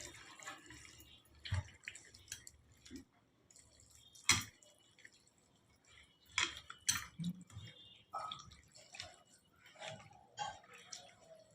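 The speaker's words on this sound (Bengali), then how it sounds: "আলুগুলো সেদ্ধ হবে, ওই জন্য একটু জল দিয়ে দেবো।" Water splashes and trickles into a pot of potatoes set to boil for a spicy small-fish chorchori, in a few short, irregular pours with light clatter in between.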